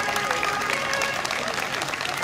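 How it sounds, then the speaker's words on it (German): Crowd along a festival parade route for Demmin's 875th anniversary claps steadily, a dense, lively patter of many hands, with voices mixed in beneath the applause. "Einen richtig schönen großen Applaus bitte."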